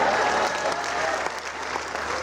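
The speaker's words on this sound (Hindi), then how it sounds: "और तालियां इस बात पर चाहूँगा" An audience at a Hindi comic poetry recital during the Mishrikh fair festival applauds loudly and steadily, a dense wash of clapping that carries on without a break.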